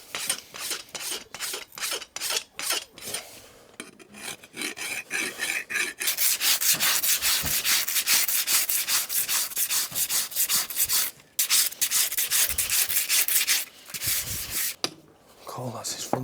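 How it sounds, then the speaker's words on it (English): A farrier rasps the clinched horseshoe nail ends smooth on a horse's front hoof, a run of loud, steady rough strokes that quicken into continuous scraping, with brief pauses. "You don't want to over rasp them."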